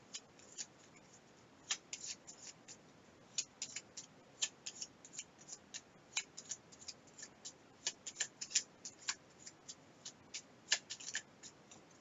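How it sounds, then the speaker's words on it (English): Cards for the Gloomhaven board game being shuffled by hand: quiet, close riffling and snapping clicks in irregular bursts over about twelve seconds, with no talking. "Now I have to shuffle."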